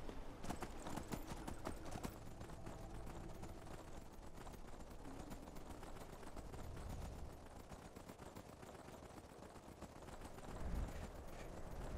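Horse hoofbeats from a fast ride in Skyrim, a steady clip-clop of galloping hooves running through the whole stretch under a dense wash of game ambience, moderately quiet throughout.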